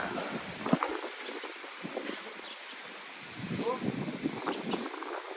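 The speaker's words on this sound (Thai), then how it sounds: "โอ้ลมมาแล้วครับ" Wind sweeps through leaves outdoors around an elephant, a soft broadband rustling that swells and eases over a few seconds while someone speaks intermittently.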